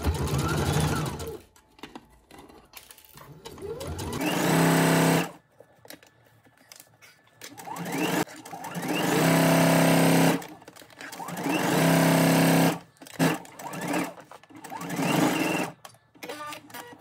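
A sewing machine stitches a placket onto a garment's front opening, running in several sustained bursts of steady, whirring motor hum with mechanical needle chatter, loud and close, separated by short pauses.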